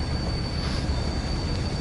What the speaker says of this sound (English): it's just the steel wheels squeaking against the